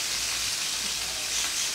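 Chicken browning in a frying pan for Chinese fried rice, giving a steady, even sizzle throughout, close and fairly quiet, with no talking.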